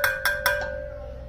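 Someone taps an aloo bukhara drink bottle three times in quick succession, plus a softer fourth tap. Each strike rings with a clear, bell-like tone that fades out afterward, close and alone.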